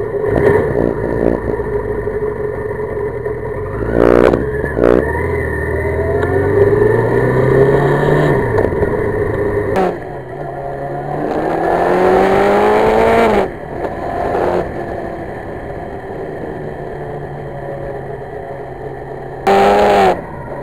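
A 1982 Suzuki GS1100E motorcycle rides along with a steady engine drone, rising and falling through gear changes and throttle swells, the rumble loud and close with no talking.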